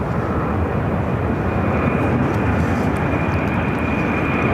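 An American Airlines Airbus airliner rolls at Phoenix airport, a steady, loud broadband jet engine roar that holds evenly throughout with no talk.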